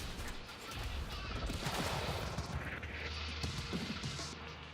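Suppressing gunfire in Quantum Break comes as a faint, dense clatter of shots and crashes in a chaotic firefight, somewhat distant and blended with rumbling game effects.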